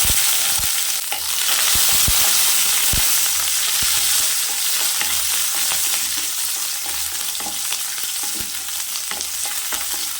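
Shallots, mustard seeds and curry leaves sauté in a pan, a steady sizzle with sharp intermittent pops and spatula clicks, close and clear, no talking.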